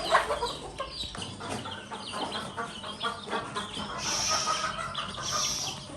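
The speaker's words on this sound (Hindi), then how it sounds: "तो ये अब अंदर देसी मुर्गियाँ सारी अंदर आ गई हैं" A flock of desi (native Indian) chickens clucking and squawking close by, busy overlapping calls with a couple of louder shrill bursts near the end.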